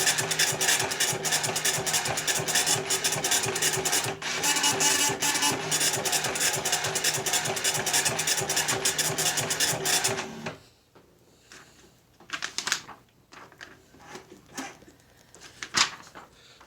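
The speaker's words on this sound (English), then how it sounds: "this time we're going to hit the print button, and this will print all options." Okidata 320 Turbo 9-pin dot-matrix printer printing all its menu options, a loud continuous buzzing rasp of print-head passes for about ten seconds, then stopping with scattered clicks and mechanical clunks afterward.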